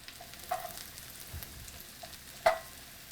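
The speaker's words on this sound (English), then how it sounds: "when you see that the butter is like completely dissolved and mixed in with the oil, then you can throw the mushrooms in" Mushrooms sautéing in melted butter and oil for beef bourguignon, a quiet continuous sizzle with a few soft clinks and stirring knocks, no talking.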